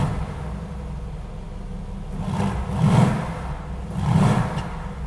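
A Mercedes-AMG with the AMG Performance exhaust idles with valves closed and a muted exhaust note, then revs twice in brief swells around the three- and four-second marks, fairly subdued and close by.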